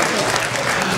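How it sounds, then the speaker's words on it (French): A music-hall audience claps steadily and fills the room with dense, unbroken applause at a constant loud level for the whole second. "on peut vous applaudir"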